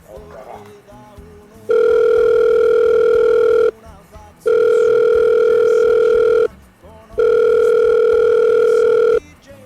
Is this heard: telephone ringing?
yes